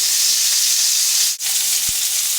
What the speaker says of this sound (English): it's a hot pan, hot oil. And we're going to cook them at a fairly high temperature until they're nice and brown on both sides